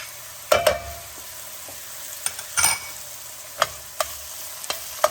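Frozen peas and grated carrots frying in a pan, a soft steady sizzle broken by several sharp clicks and scrapes of stirring, with no talk.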